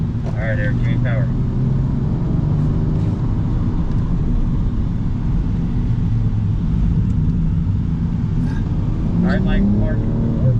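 A loud BMW race car engine roars steadily on a race track, revving and pulling hard throughout, with muffled voices faintly underneath.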